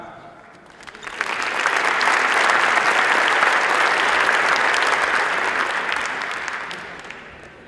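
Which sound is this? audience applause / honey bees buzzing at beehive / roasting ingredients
audience applause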